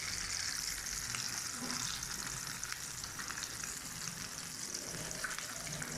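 Qeema aloo tikki fry in a pan of hot oil, giving a steady close crackling sizzle that runs unbroken throughout.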